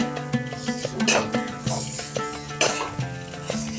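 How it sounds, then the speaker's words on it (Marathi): Dried bombil fish with homemade Agri masala and salt sautéing in hot oil, a steady sizzle broken by intermittent scrapes and stirs of a spoon against the pan, with no voices heard. "व्यवस्थित परतून घेऊया"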